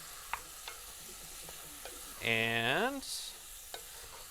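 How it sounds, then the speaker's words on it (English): Parboiled florets stirred with spices in a hot pan, a soft continuous sizzle with a few light utensil taps, interrupted midway by a brief rising tonal squeal. "I'm just stirring to coat, really, to make sure that those lovely spices get all the way worked in there"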